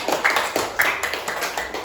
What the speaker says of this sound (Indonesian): tepuk tangan dulu untuk Yasir.